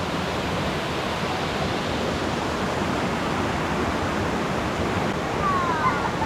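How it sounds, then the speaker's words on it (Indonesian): A forest waterfall, Batu Timah, gives a steady, loud broadband rush of falling water that holds unchanged throughout with no voices. "Ini air terjun Batu Timah."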